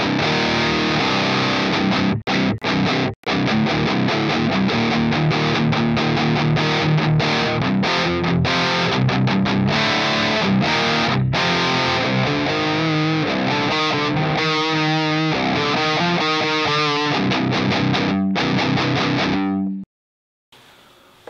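An electric guitar plays through a high-gain Revv amplifier switched to its blue aggression mode, with dense, heavily distorted chugging riffs and tight palm-muted bursts, loud and close, before cutting off near the end.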